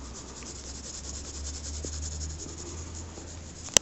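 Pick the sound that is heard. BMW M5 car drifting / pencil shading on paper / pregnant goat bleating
pencil shading on paper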